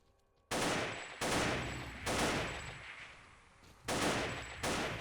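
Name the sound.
AK rifle gunfire in the video game Fate of the Zone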